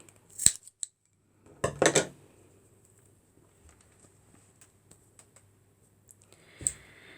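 Scissors snip off thread ends on a craft piece in a few sharp, close clicks, a quick pair early and a tighter cluster a second later, then faint taps and handling sounds in a quiet room.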